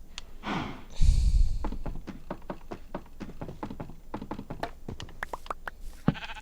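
Sheep bleats from the Minecraft video game sound in a few short wavering cries mixed with dull taps and thuds of in-game action, fairly close and steady.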